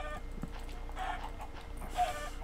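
A Minecraft chicken gives a few soft, brief clucks in the game, fairly faint, over quiet in-game background ambience.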